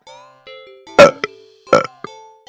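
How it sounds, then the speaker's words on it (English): Two wet belches about a second apart stand out over a soft, steady tonal music bed in a cat-petting horror video game, with a few short clicks between them. "I don't know why I'm burping so much"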